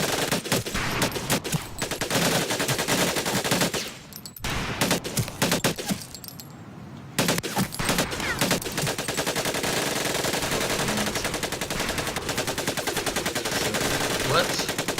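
Machine gun fire rattles in repeated short bursts with brief pauses between them, loud and close, in the Medal of Honor video game, with occasional voices underneath.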